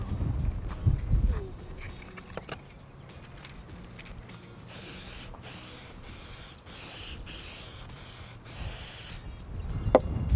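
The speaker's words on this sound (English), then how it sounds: "I'm gonna use that aerosol can to get more coverage" An aerosol glue can sprays in several short hissing bursts, each roughly half a second, with brief gaps between them, after some quiet handling noises.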